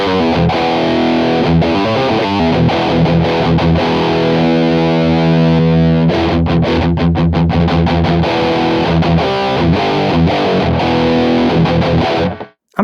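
Electric guitar through the Kuassa Dual King amp plugin in a live tracking setup, a continuous distorted riff with chords and driven single notes, loud and dense, ending in an abrupt cut with no voices.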